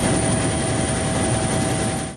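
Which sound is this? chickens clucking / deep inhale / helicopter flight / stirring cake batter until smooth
helicopter flight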